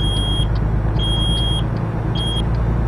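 A truck warning alarm beeps in the video game American Truck Simulator, three evenly spaced high tones sounding over a loud, constant diesel engine rumble inside the cab.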